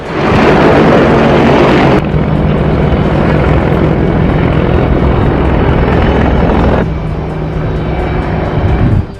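Apache attack helicopter at a forward airbase near the LAC, a loud, steady rotor and engine roar that fills the whole stretch, dropping slightly in level partway through, with no talk.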